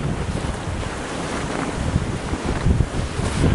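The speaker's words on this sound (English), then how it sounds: "the other side of the house where you see the wind's really still blowing" Strong wind roars steadily through a snow blizzard around a house in Hazleton, Iowa, a loud, continuous gusty rumble with buffeting against the microphone that swells near the end.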